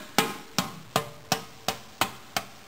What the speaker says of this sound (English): go ahead and hammer it down there